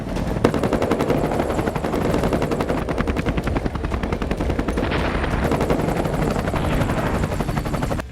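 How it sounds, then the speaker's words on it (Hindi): An Apache military helicopter on patrol along the LAC in Ladakh, its loud, continuous rotor chop and engine roar close and steady throughout, with no voices. "लद्दाख एलएसी के एक हिस्से में अपाचे हेलीकॉप्टर से पेट्रोलिंग की जा रही है"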